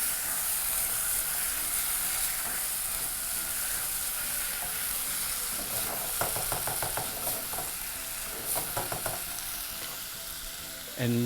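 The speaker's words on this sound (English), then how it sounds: "Proceed to toss your mixture." Beef casserole mixture tossed and stirred in a sizzling pan, a steady loud frying hiss throughout with a burst of clattering stirring knocks partway through, no voices.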